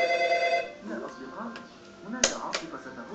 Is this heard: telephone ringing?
yes